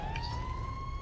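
A police car siren in a video game wails with a steady rising tone, loud and continuous for the whole second over a rumbling low background.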